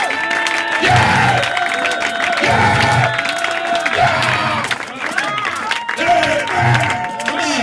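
A church congregation applauds and cheers in rhythmic bursts over steady crowd noise, with voices shouting and chanting throughout at close, loud range.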